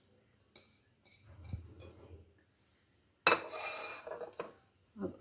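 Russian salad tossed with drained mixed fruit in a bowl: soft quiet spoon movements at first, then a louder burst of scraping, clinking stirring, ending with a couple of spoon knocks.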